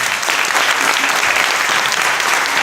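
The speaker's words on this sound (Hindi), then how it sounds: "एक अच्छी ताली अभी तक प्रभु के लिए, जोर से" Loud, sustained applause from a church congregation fills the whole stretch, dense steady clapping with no gaps.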